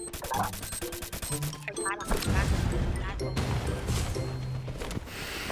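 A grenade blast in the mobile shooter Free Fire bursts out loud and broad amid clattering gunfire and other in-game effects, with players chattering over the action.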